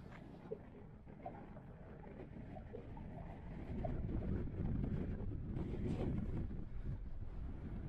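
Wind gusts across an exposed hillside trail on Skye, buffeting the microphone with low rumbling roar that swells stronger through the second half, with no voices.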